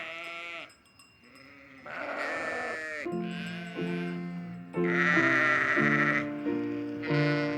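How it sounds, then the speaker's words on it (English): Sheep bleat repeatedly on a hillside near Bethlehem, several loud, wavering calls overlapping one another close by, with short pauses between bursts and no talking. "some shepherds were keeping watch over their sheep"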